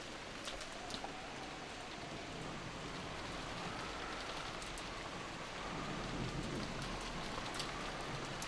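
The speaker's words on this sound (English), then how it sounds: "the cold drops of rain tormenting Maria were suddenly blocked" Steady rain falls as a game sound effect in Umineko, a dense, even hiss of drops on a surface that holds level throughout and swells slightly louder in the second half, with no voices.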